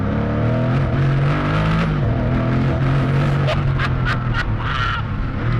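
A Koenigsegg Agera's engine roars under hard acceleration as a loud, steady drone that rises in pitch over several seconds, with a few short sharp transients near the end.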